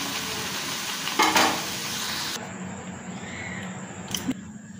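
Carrot kachori fry one at a time in hot oil, with a moderate sizzle that cuts away abruptly midway to a quieter stretch with faint hiss, a short clatter, and a distant crow-like call.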